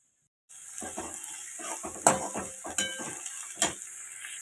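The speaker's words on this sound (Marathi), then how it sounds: "लसूण फोडणीला घातलंय कढीपत्ता लसूण कांदा आणि किसलेलं आलं" Onion, garlic, curry leaves and grated ginger sizzle in hot tempering oil, a steady close crackle with sharper scrapes and clicks from stirring, no voices.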